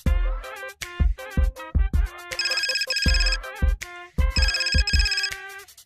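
Mobile phone ringtone playing a bright, repeating electronic melody in short bursts, clear and fairly close, with no talking over it.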